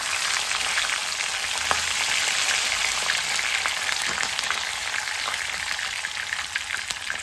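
Curry leaves, mustard seeds and chillies sizzle steadily in hot oil, giving a loud, continuous crackle with scattered sharp pops and no voices.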